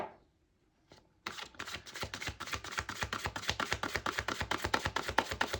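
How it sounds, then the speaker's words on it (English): After a short quiet start, a deck of tarot cards riffles and snaps rapidly in a quick, steady rhythm close by, with no talking. "I usually shuffle the deck 3 times and then I cut the pile in 3"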